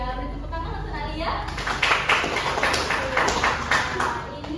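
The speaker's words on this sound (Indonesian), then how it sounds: "Beri tepuk tangan untuk Alia." A classroom of students clapping for a classmate during a micro-teaching lesson, a brief burst of rhythmic hand claps under a continuous background hum, with children's voices mixed in.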